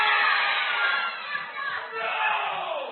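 A wrestling arena crowd in the video game Fight Against Poverty 3 roars in a loud, dense wash of shouting and cheering that swells and dips slightly across the few seconds, with a muffled, band-limited tone.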